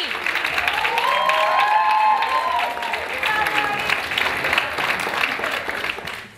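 A concert audience applauds a performer named Ani at a diploma concert, a sustained dense wash of clapping that swells early and tapers toward the end, with faint tonal traces beneath.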